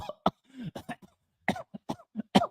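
A person coughs in a series of short, sharp bursts, close and fairly loud, with brief pauses between them.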